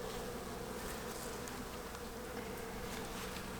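Dense, steady buzzing of many honeybees swarming over an open beehive with eggs and young larvae in the brood cells, a close, continuous hum with no talking.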